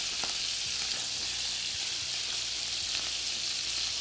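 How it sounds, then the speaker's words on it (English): Steady, dense sizzling of meat frying in a hot pan, loud and close, with faint clinks and stirring noises, no talking. "you want this really hot, sizzling in the pan, so when this hits it, it cooks fast"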